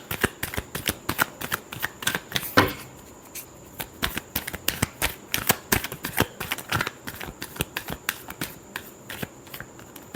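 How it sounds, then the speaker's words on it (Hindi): Tarot cards being shuffled by hand, a long run of crisp repeated slaps and riffles in an irregular rhythm, close and fairly loud, with no talking. "last shuffle"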